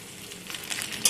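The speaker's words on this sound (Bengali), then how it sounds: "আদা আর কাঁচা লঙ্কাটা দিয়ে একটুখানি আমি ভেজে নেব" Chopped ginger and green chilies fry in a pan with a light, steady sizzle that swells slightly toward the end, ending in a short sharp crackle, close and without speech.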